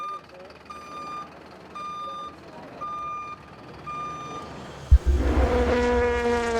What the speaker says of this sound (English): the remaining sound of a reversing tow truck